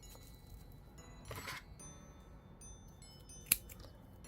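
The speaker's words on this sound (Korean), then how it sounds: "실 남은 걸로 잘라 주시고" Scissors snip leftover yarn while making a knitted diagonal herringbone mini bag, a single sharp, close cut in a quiet room after some soft handling noise.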